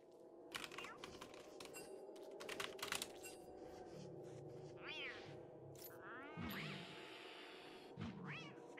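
A catcoon meows in the game Don't Starve Together during a fight with a frog, the short rising cries coming in several bursts over steady computer keyboard typing.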